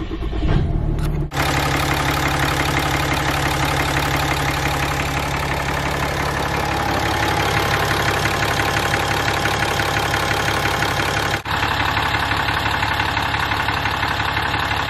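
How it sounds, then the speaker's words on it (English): RAM 6.7 Cummins diesel engine idling with a deep knock, a loud, close, steady rumble with a rhythmic ticking clatter running through it, briefly cut by two short sharp breaks. "because the engine has a deep knock in it"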